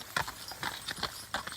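Horses on a ranch walk with a steady, uneven clip-clop of hooves, several close strikes spread over under two seconds with no talking.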